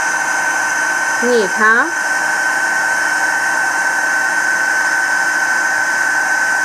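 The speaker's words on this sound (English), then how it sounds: "this embossing gun is just very slow" Heat embossing gun melting embossing powder, a steady whirring blower hum running close and constant from start to finish, with a brief spoken voice over it early on.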